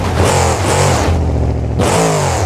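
A monster truck engine revs hard in bursts as the truck drives over crushed cars at a freestyle championship arena show, loud roaring pulls broken by a brief drop before the throttle surges again.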